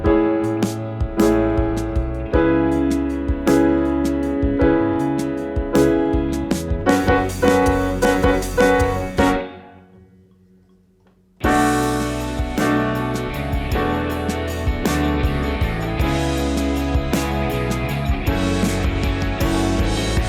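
Real, slightly out-of-tune piano recorded through a Neumann KM184 condenser microphone, played loud and continuously with dense chords, briefly fading to near silence around the middle before resuming at full level; no voices.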